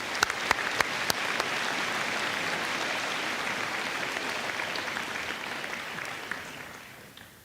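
Steady applause from a high school graduation audience fills the hall, a dense continuous patter of many hands that fades slightly toward the end, with no talk over it.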